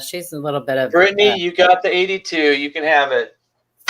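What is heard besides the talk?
No distinct noise like a dog, phone or traffic.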